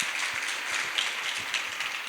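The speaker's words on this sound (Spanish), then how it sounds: "Aplausos, chicas," An audience of women at a question-and-answer panel claps steadily, a dense, even patter of applause lasting the whole moment without a break.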